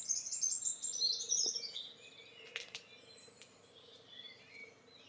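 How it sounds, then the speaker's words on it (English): Early-morning dawn chorus in Gower: faint, distant bird chirps and twitters over a soft insect hum, with scattered brief calls and no voices. "you have to get up very early in the morning to be able to hear it. And that's the dawn chorus."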